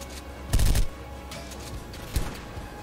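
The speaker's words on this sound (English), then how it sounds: "let's keep shooting again" Gunfire in The Sorrowful Queen video game on Brutal mode: a short loud burst of close shots, then a single sharper shot a moment later over a steady game background.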